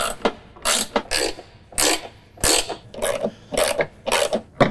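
Bolts being tightened on the underside of a flipped-up John Deere Z320R zero-turn mower deck, heard as repeated close ratchet bursts of clicking in a steady rhythm, with no talking.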